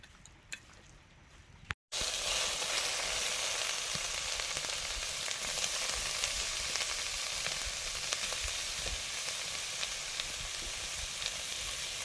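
Chhatu coated in salt, turmeric and chili powder fries in hot oil, a steady close sizzle that bursts in after a brief quiet opening and keeps crackling evenly to the end.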